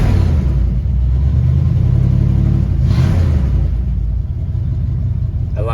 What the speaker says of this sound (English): Nothing like the sound of a good old 289.